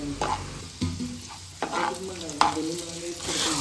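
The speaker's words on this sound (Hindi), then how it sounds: "हमें यहाँ पे लहसुन को तब तक भूनना है जब तक कि उसका रॉ स्मेल जो है वो चला ना जाए।" Garlic and green chili sizzle in a hot pan during stirring, a close steady hiss broken by a few scraping spoon strokes and soft clinks.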